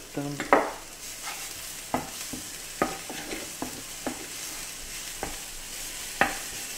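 Shallots sizzle in melted butter in a pan for a trout dish with vin jaune. A steady close frying hiss runs throughout, broken by sharp clicks and scrapes of a utensil stirring against the pan, with no talk.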